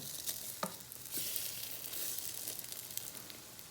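French toast sizzles in a frying pan just after being flipped, a steady crackling hiss with a few sharper pops and scrapes, close and moderately loud throughout.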